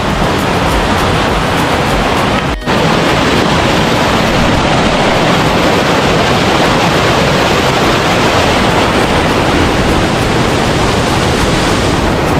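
Rushing water pours steadily near Rathna Ella waterfall in Sri Lanka after heavy storm rains. The roar is loud, close and constant, with a single brief dropout.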